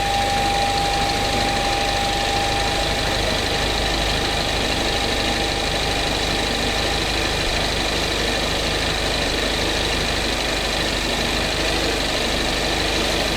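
Steady, loud engine running from a Peugeot 408 THP with a reported engine noise fault, a constant close drone with an underlying rhythmic knock and no breaks across the whole stretch.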